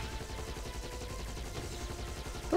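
Rapid bursts of gunfire in the PC shooter Giants: Citizen Kabuto, a steady crackling volley of shots running through the whole stretch with no pause and no voices.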